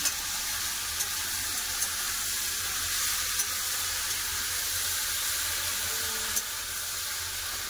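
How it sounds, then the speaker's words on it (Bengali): Mixed vegetables sautéing together in a pan for a Bengali fish-head and vegetable dish, giving a steady, close broadband sizzle that holds evenly throughout, with a few faint clicks and no voices. "এবার খুব ভালো করে কষে নেব।"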